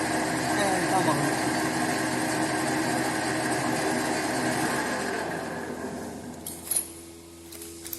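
Metal lathe running steadily while facing a workpiece, a continuous close mechanical hum and whir that drops away near the end, followed by a few light metallic clinks.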